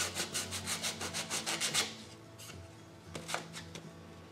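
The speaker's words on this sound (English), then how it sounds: "I want to scratch it up a little bit with my sandpaper." Sandpaper rubbed in quick, rhythmic back-and-forth strokes over purple-painted wood framing, about a dozen close, crisp scratches followed by a couple of slower, softer passes.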